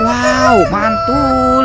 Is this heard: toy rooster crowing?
yes